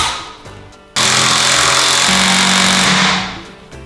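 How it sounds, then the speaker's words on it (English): An AEG multi-function tool fitted with an impact driver head drives a screw into treated pine: a loud, steady mechanical whirr and hammering rattle lasting about two and a half seconds, with the pitch dropping as the motor strains, then winding down. "taking this head, popping it off, putting on the impact driver head, and then we'll see how that goes"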